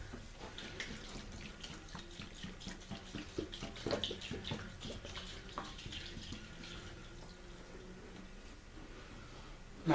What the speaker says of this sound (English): I'm going to pop the cap. And I'm going to dump this in.